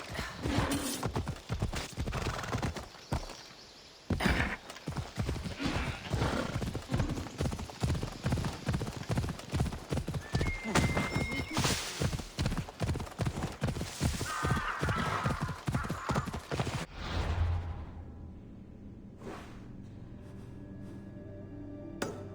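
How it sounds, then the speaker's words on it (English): Horse hooves clip-clopping at a steady gallop in the video game Assassin's Creed Odyssey, a loud rapid rhythm running for most of the stretch before stopping, with a brief whinny-like call and game ambience after. "Ride, Phobos!"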